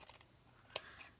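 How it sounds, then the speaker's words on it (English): Scissors make a few small snips into fabric, cutting frills for a spindle snowman craft; one sharp, close cut stands out among fainter clicks in a quiet room. "all I'm going to do is make some little snips here so he'll have some frills"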